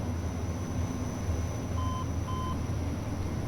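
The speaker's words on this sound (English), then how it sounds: "That little beep is because I blipped the trim nose down just a little bit" Two short electronic trim beeps sound in a Majestic Dash 8 Q400 cockpit in a flight simulator as the trim is blipped nose down, clear tones over a steady engine and cabin drone.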